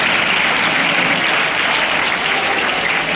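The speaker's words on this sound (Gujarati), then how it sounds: "ફરીથી જોરદાર તાળીઓના ગડગડાટ સાથે મહેમાનોનું સ્વાગત કરતા" Thunderous crowd applause welcoming guests at a ceremony, a dense, loud, continuous roar of clapping that holds steady throughout with no pauses.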